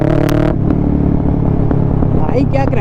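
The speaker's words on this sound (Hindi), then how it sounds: "Guys crackles, this bike got some heavy crackles." A Kawasaki Ninja 650 with a full Mivv exhaust system crackles and pops loudly up close, sharp bangs breaking over a rough, throbbing engine note, with a voice heard briefly.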